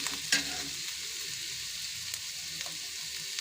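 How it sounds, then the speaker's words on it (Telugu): Chopped onions frying in a pan for an egg masala curry, turned over and over with a steady sizzle, punctuated by a sharp clink of the spoon near the start and a few lighter scrapes. "ఉల్లిపాయలు అటు ఇటు తిప్పుకుంటూ"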